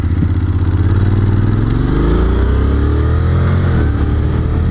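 Honda X-ADV scooter engine pulling hard and steady, the tone climbing smoothly through gear changes without any jolts, loud and close throughout with no one speaking.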